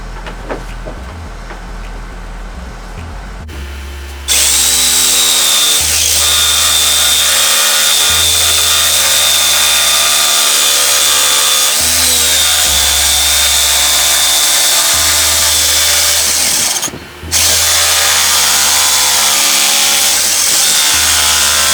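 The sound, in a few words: jigsaw cutting out pieces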